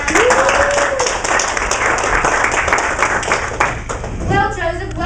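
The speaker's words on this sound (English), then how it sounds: "Give him a round of applause." A talk show studio audience applauds, a dense patter of clapping heard under a talking voice, with a brief tone near the start.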